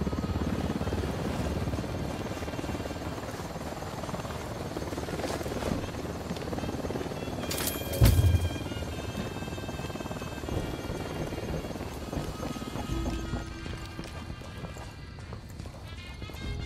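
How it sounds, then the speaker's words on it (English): A helicopter in the video game Ghost Recon Wildlands makes a steady rotor drone that fills the whole stretch, broken once by a sharp bang midway. "Down, get down, chopper!"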